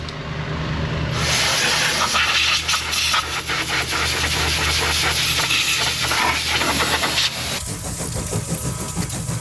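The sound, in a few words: air blow gun blowing dirt from fuel pump chamber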